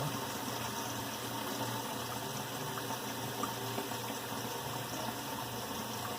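Water runs steadily into a gallon container, a continuous, fairly quiet rushing and gurgling stream with a low hum beneath it, unbroken and even, with no one speaking.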